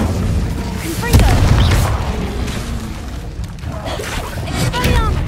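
Confringo and Incendio spell blasts from Hogwarts Legacy, loud booming bursts and crackling fiery whooshes in quick succession, with a voice shouting the spell names over them.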